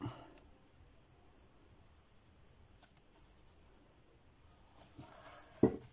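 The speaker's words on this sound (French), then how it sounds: "J'installe mon Neocolor sur toute la surface" A Neocolor wax crayon rubs across a gesso-coated surface in faint, close strokes of dry scraping, ending with a sharper scuff.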